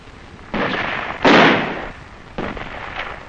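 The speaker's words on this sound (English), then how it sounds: "It was quickly met with small arms and mortar fire." Small arms and mortar fire during a jungle ambush in Vietnam: a few loud, broad blasts, one heavy burst near the middle, then softer cracks trailing off, with no voices.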